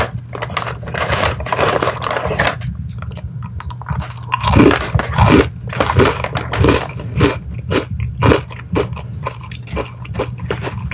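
Close-up, loud crunching as a crunchy cheese crisp is bitten and chewed, sharp crackling bites followed by rhythmic grinding chews across the whole stretch, with no talking.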